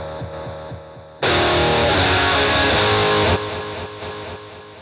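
Electric guitar played through a Boss GT-1000 with a ducking delay: a soft picked pattern bursts into a loud, heavily distorted chord that rings for about two seconds, then drops back as delayed repeats swell underneath.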